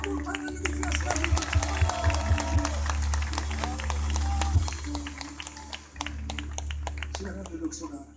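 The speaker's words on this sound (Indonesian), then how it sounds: "Berikan tepuk tangan lebih keras lagi." A large church crusade crowd in Manado keeps clapping for over eight seconds, dense sustained applause with a brief dip near the end, under an amplified preacher's voice.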